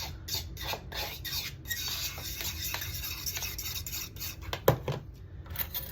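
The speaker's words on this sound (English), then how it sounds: "so I'm mixing those ingredients together in this bowl" Ingredients for a Costa Rican tres leches cake being stirred together in a bowl, a quiet run of rhythmic scraping and clinking strokes, close by, with one sharper knock of the utensil against the bowl near the end.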